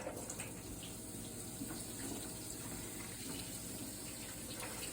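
Vegetables sizzle in hot sesame oil in a pan, a constant dense hiss that stays even and close from start to finish with no talk.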